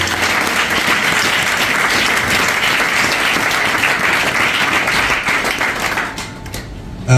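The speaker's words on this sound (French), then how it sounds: "Est-ce qu'on peut acclamer le Seigneur?" A church congregation applauds loudly and steadily for several seconds, a dense wash of many hands clapping that tapers off near the end.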